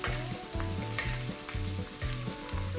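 Steak sears in foaming butter in a hot pan, giving a steady, loud sizzle with a repeating rhythmic pulse, as if the butter is being spooned or the pan tilted, heard alone without voices.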